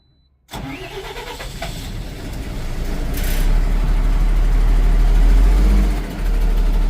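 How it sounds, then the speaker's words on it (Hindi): A car engine cranks and catches, then settles into a loud, steady running rumble close by, with no talk over it. "गाड़ी स्टार्ट हो गया, देख लो"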